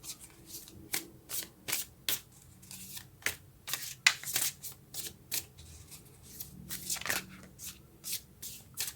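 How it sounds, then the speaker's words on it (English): Tarot cards are shuffled by hand close to the microphone, a choppy run of crisp riffling bursts that come in uneven waves about every half second. "when I shuffle the cards"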